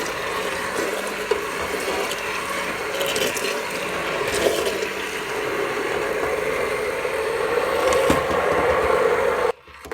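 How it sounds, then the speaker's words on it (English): Liquid poured into blended soup inside a pressure cooker, a steady close rushing splash mixed with gurgling and faint mechanical rattles, continuous until it stops abruptly just before the end. "we can start to add the rest of the liquid"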